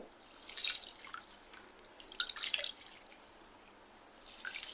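Soaked lentils and rice are washed by hand in water, giving bursts of splashing and swishing with a dripping texture, loud and close, in three waves separated by quieter gaps, with no voices.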